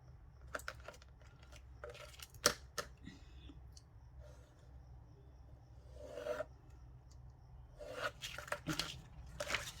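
Scissors cut a paper template traced from a recycled cookie box, giving a faint, close sequence of short rasping snips and rustles with brief pauses between bursts.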